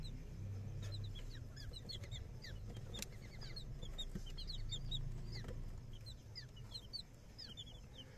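Young Polish and Silkie chicks, including white and blue Polish and a white Silkie, peep and cluck in a brooder among fancy breeds, with steady chirps scattered over a low constant hum.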